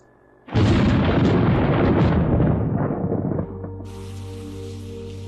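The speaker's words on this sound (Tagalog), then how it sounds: "Umuulan." Heavy rain sound effect in a narrated story bursts in suddenly with a thunder-like roar, stays loud and dense for about three seconds, then thins to a quieter hiss with a low tonal backing.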